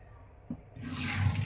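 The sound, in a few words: boiled rice drained in a basket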